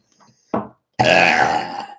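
A person burping loudly and close, a short burp followed by a longer, drawn-out one, with no talking.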